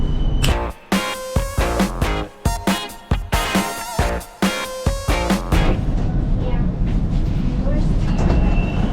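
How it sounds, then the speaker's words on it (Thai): Inside a Bangkok BTS Skytrain car, a rhythmic run of loud rail clatter and jolts fills the first half, settling into a steady interior rumble with faint voices underneath. "เข้ามาภายในรถไฟฟ้าแล้ว"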